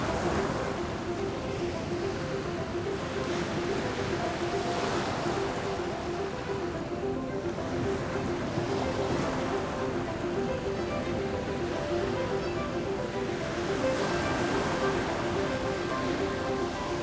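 Surf on Bournemouth beach on the English south coast, a steady broad wash of breaking waves with a constant background roar, no talk heard.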